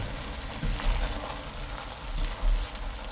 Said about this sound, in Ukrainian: Друзі, ще раз перемішую.